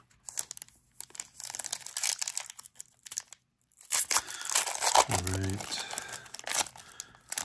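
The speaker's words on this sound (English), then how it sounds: "so open up the whole box" Plastic wrapping crinkles and tears as a Disney Lorcana Ride of the Floodborn booster box is opened, bursts of crackling close up with a pause midway, and someone speaks briefly at the start.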